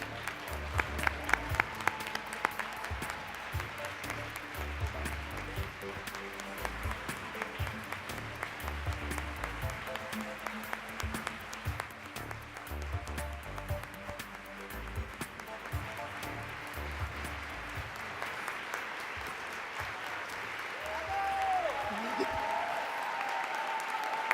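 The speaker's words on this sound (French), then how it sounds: "veuillez applaudir la lauréate du prix Réalisation Les Affaires 2018, Françoise Bertrand." Audience applause for a businesswoman receiving a Quebec business award at a gala: sustained, dense clapping from a large crowd that carries on steadily for over twenty seconds, with a voice briefly heard near the end.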